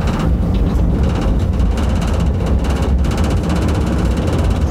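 A heavy, steady mechanical rumble from a vintage MTV-82 tram pulling away as the brake is released, loud and continuous, with faint rattling on top and no talking.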